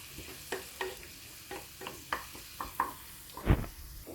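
Chopped onion and crushed garlic with turmeric cooking in a pan for a prawn dish, with a soft sizzle under intermittent taps and scrapes of a stirring spoon, one louder knock near the end, and no voices.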